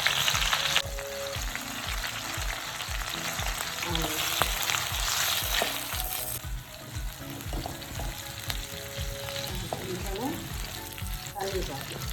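Frying in oil or ghee in a pan for coconut milk rice gives a steady sizzle with rhythmic low clatter throughout, loud and close, with no talk over it.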